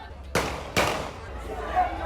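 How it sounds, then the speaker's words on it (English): Two sharp gunshots crack in a street in Darlington during a protest roadblock, fired about half a second apart and heard from some distance, followed by faint background murmur. "As you can hear, gunshot start to fire."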